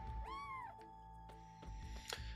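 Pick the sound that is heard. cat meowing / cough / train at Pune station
cat meowing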